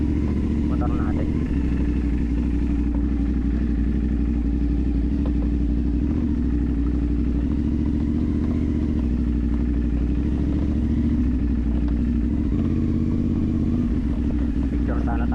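A CFMoto NK450 motorcycle engine drones steadily and loudly while riding on a slippery road, with a constant close rumble, wind noise and occasional clatter throughout.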